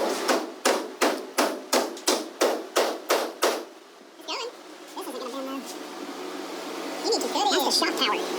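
Heavy hammer blows on the frame of a Foxbody car during a rear axle swap, about ten loud, evenly spaced metallic strikes in quick succession, then they stop and people talk.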